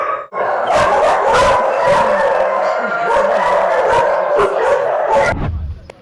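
About seventy rescued dogs in wooden shelter enclosures bark and yip continuously, loud and close, with overlapping barks and occasional whimpers.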